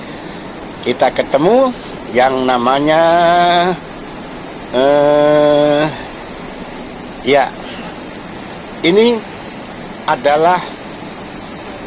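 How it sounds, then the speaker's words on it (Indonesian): Loud, steady machinery roar filling the engine room of the passenger ship KM Umsini, a constant drone with someone talking over it in short bursts. "Kita jalan-jalan ke kamar mesin."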